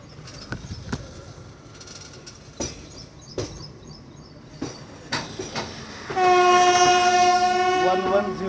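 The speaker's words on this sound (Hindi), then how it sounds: "नंदीग्राम एक्सप्रेस अपनी निर्धारित समय 9:15 पर निकल चुकी है बल्लारशाह से" Nandigram Express pulling out of Balharshah station: scattered clanks and knocks, then a loud, sustained multi-tone train horn blasts nearby for the final couple of seconds.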